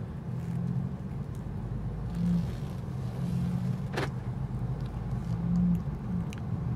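The engine of a Mercedes-AMG CLA45 S idles along at low revs around 1900 RPM, a steady, fairly quiet rumble from inside the cabin with slight swells and a faint climate-fan hiss in the background.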